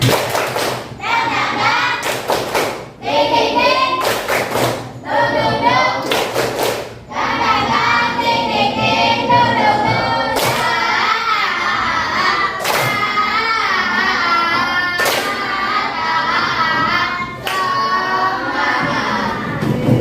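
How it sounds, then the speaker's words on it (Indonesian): Children doing the rhythmic 'tepuk semangat' clap in a classroom, with crisp hand claps in quick patterned groups repeating steadily over a busy bed of young voices. "Yuk, tepuk semangat."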